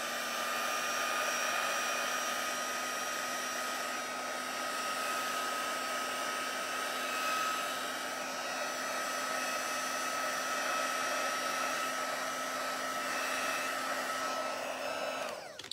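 A hair dryer blows continuously to dry ink on a craft stamp, a steady whirring hum with a constant whine that runs unbroken for about fifteen seconds before clicking off at the end, with no voices.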